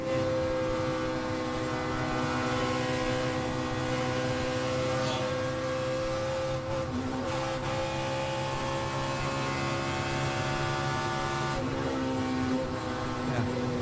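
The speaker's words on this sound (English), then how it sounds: "Let's go on board with Kurt Busch in the 12 car." A NASCAR stock car engine at the 2007 O'Reilly 300, heard onboard Kurt Busch's number 12 car: a loud, steady, unbroken drone held at high revs with little change in pitch throughout.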